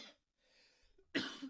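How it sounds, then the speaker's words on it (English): A man gives a short, close cough with a throat-clearing quality during a casual conversation. "I got a cough."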